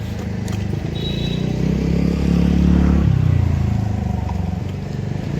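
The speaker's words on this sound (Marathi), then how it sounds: "स्टार्ट करून रेस करू का?" A motorbike stalled in heavy rain is started and its engine idles with a low throbbing rumble that rises briefly in a rev and then settles back, heard up close.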